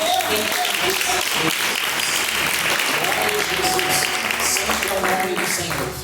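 Sustained applause from a church congregation during a worship service fills the space, steady and loud throughout with voices mixed in beneath the clapping.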